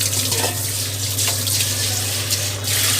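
Tap water running steadily into a sink while dishes with egg shells and grime are washed, a loud, close, continuous splashing stream with a low hum underneath and small clinks of dishes.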